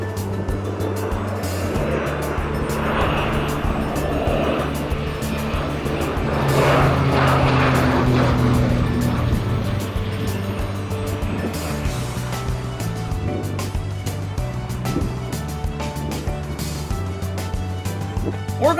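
A crop duster airplane spraying a cornfield drones overhead, its steady engine noise swelling as it passes and then fading slightly, heard from the ground with no one speaking.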